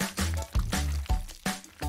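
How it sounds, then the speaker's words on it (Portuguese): Honey pours from a container in a short, soft liquid trickle, heard as repeated gentle bursts over a low, steady tonal hum. "Até parece uma cachoeira de mel."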